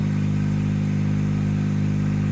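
A John Deere 1025R compact tractor engine idles close and loud, a steady humming drone with a faint regular pulse and no voices.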